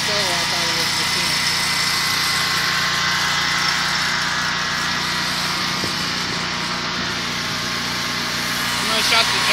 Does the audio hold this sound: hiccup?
no